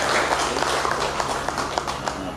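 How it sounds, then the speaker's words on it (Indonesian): An audience applauds the mayor of Malang at an evening gathering of the Perisai Diri martial arts group. Steady, fairly loud clapping with scattered sharp individual claps runs throughout. "Ini tepuk tangan untuk beliau."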